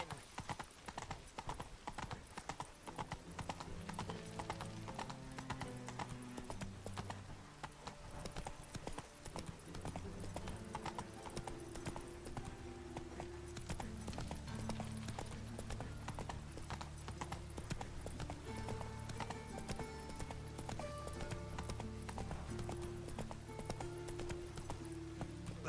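Geralt's horse Roach trots on in The Witcher 3, the hooves a soft, even clip-clop that runs throughout under a bed of game music, with a faint whinny.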